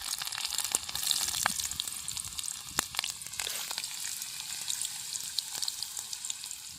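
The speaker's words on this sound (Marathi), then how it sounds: "तेल तर लय तापलंय लसूण टाकून घेते पहिले" Garlic fries in very hot oil in a pan, a steady crackling sizzle with scattered sharp pops and spits, moderately close and continuous with no talking.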